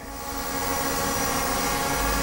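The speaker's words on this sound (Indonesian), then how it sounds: "Jadi kita lihat kestabilan terbang dari drone F823 ini." Brushless F823 camera drone hovering in place, a steady, loud whir of spinning propellers with sustained motor tones that build slightly at the start and then hold even throughout, no talking.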